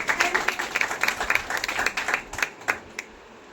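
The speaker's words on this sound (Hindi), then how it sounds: "इनके लिए एक बार जोरदार तालियां दोस्तों" A crowd at a business testimony event breaks into energetic applause, many hands clapping in a lively patter that thins out toward the end.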